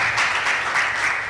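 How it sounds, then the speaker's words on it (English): Dense applause from a congress audience at an African actuarial conference session, a continuous bright roar of many hands clapping together, fairly loud and close, with no voices over it. "A round of applause for them, please."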